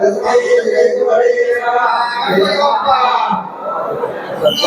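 Dense crowd chatter and murmuring voices fill the Ozar temple hall during morning darshan after aarti, a steady loud babble with occasional laughter throughout.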